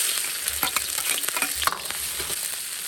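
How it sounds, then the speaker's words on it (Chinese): Ginger and garlic fry in a little oil in a wok for braised garlic pork trotters, giving a steady close sizzle broken by the scrape and clatter of stirring, with no one speaking. "鍋裡加油，少量油啊，小心一點，別把油崩出來的"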